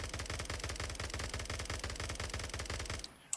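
Rapid automatic gunfire from a modded gun in Minecraft, a steady, fast rattle of close, loud shots that runs nearly three seconds, then cuts off into quiet with one faint click at the end.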